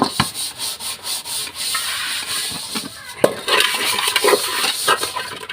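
Coconut fiber scrubs an aluminium vessel by hand, producing steady rhythmic rasping strokes with occasional metallic clinks, close and fairly loud.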